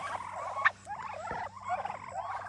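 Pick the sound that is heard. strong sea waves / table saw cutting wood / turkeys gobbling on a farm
turkeys gobbling on a farm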